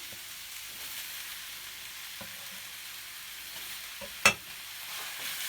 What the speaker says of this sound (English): you can hear the sizzle just starting to die down a little bit